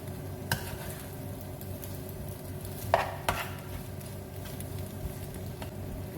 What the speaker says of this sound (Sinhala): හොඳට මික්සි කරගන්න.